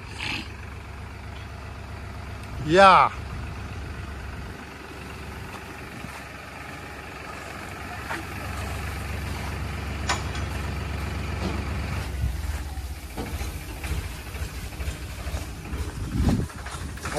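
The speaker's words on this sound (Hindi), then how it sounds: "हाइड्रोलिक लगा ना ट्रैक्टर में तो ऐसे उठता है" Tractor engine idling as its hydraulic lift raises a trailer, a low steady rumble underneath, with a brief loud hiss early on, occasional clunks and a short voice.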